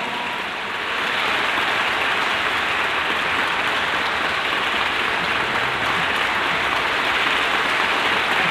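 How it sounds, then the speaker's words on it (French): Evening lecture audience greets the speaker with sustained, dense clapping that swells after the first second and holds steady at full strength. "Nous pouvons saluer notre conférencier de ce soir par nos"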